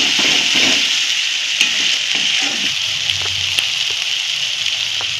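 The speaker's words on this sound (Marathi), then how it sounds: "चांगलं भाजून घेते मी 2 मिनिट, तेल सुटेपर्यंत" Ground masala paste fries in oil with a steady, close sizzle and hiss for a vegetable curry of peas and soya chunks, while occasional spoon scrapes and taps mark the stirring.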